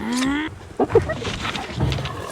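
Film tiger roaring, partly computer-generated and shot against a blue screen, a short deep growl-roar burst following a brief sustained tone, with quieter rumbling afterwards and room noise around it.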